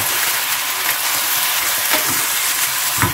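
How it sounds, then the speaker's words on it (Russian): Chanterelle mushrooms frying in a pan, a loud, steady sizzling hiss with faint crackles and no speech. "Здесь у нас жарятся лисички."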